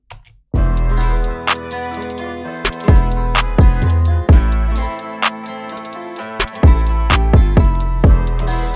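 A looping Spanish guitar trap beat: plucked nylon-string guitar melody over deep booming bass hits and sharp percussive accents, loud and rhythmic.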